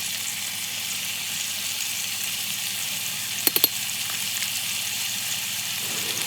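Beef brisket seasoned with rub and Himalayan salt sears in an Instant Pot, a steady close sizzle of browning meat with a couple of quick clicks midway.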